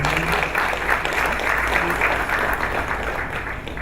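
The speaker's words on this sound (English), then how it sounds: "Please, another round of applause for you." An audience at the Nigerian Institute of International Affairs gives a speaker another round of applause; full, loud clapping continues steadily from start to finish without speech.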